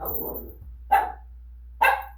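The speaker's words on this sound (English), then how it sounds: "That's what the barking is." A dog barks twice, sharp and loud, a second or so apart, after a low grumble at the start.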